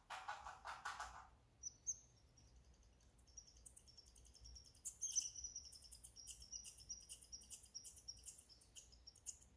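Several birds chirp and tweet in bursts, high and fairly close, with a short burst of louder noise at the start and quiet ambience between calls.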